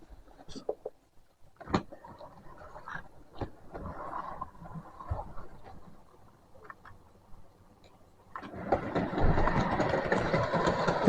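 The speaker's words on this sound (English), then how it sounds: "Here comes the train." A model railway train runs along the track with scattered clicks and rattles, then builds into a louder, sustained rumble as it approaches near the end.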